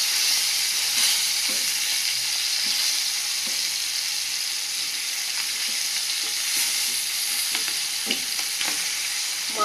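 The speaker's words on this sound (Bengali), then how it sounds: "তেলটা গরম হয়ে গেছে, দিয়ে দেবো কই মাছগুলো।" Large koi fish fry in hot oil in a crowded frying pan, giving a loud, continuous hissing sizzle with small spits and crackles, heard up close with no voices.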